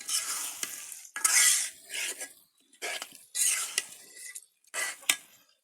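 Rice and spices sautéed in a pot, with bursts of scraping and stirring broken by short pauses and a light sizzle, fairly close, with no talking.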